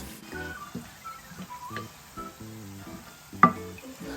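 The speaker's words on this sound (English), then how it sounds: "Take note that I'm using the folding technique to stir the noodles so that I won't break the noodles." Flat rice noodles being stir-fried in a wok with oyster sauce and soy sauce for char hor fun, folded over gently; a steady sizzle with soft, rhythmic scraping of the wok and a sharper clack near the end.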